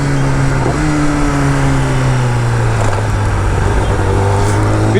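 A Kawasaki ZX10R motorcycle engine revs loud and close while being ridden, holding a steady droning pitch that dips slightly and rises again, with constant wind roar over it.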